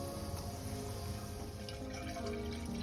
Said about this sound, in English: We are adding 4 cups of water